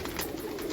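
Well-dressed pigeons coo briefly on a rooftop loft in Pakistan, a short soft burst of cooing with no speech.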